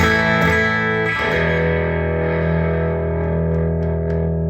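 A sustained electric guitar chord played with no pedals rings out clean and steady, with a couple of strummed attacks early on before it decays slowly.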